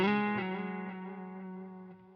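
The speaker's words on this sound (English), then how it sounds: "delay and reverb come through" A single electric guitar chord played through a Line 6 Helix with delay and reverb rings out on its own and slowly decays.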